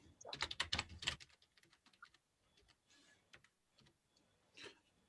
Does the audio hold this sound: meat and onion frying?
no